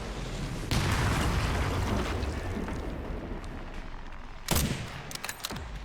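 Gunfire and mortar blasts in the video game Resident Evil Requiem, a loud rumbling burst of shooting at the start that trails off, then a second sharp blast near the end followed by scattered shots.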